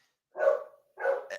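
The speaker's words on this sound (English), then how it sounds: "the dog must have saw something outside" A dog barks twice in quick succession, close and fairly loud, with a short yip at the end, and no other sound around it.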